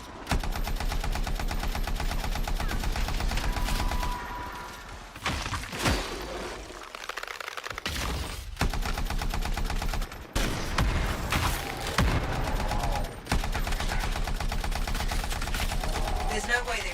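Sustained rapid automatic gunfire from turrets in the video game Anthem, loud and continuous with brief pauses and a few sharp bursts.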